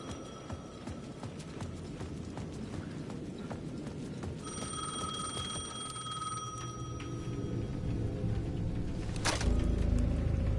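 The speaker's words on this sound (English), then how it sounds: "The payphone at the edge of the plaza was ringing again." A payphone rings in the video game Alan Wake 2, its electronic bell tones holding steady mid-clip, with a brief sharp burst near the end over a rumbling ambient backdrop.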